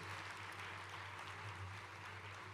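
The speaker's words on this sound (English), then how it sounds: "Please clap for them in advance before they come to the stage." An audience at an arts and culture awards event applauds, a steady wash of clapping from many hands at moderate distance, with a low hum underneath.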